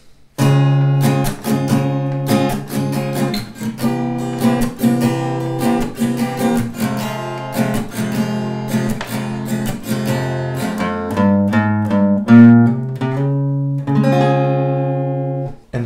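Strummed guitar chords move through a progression, ending with a quick melodic run of single notes before a final ringing chord.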